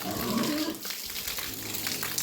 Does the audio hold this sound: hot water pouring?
yes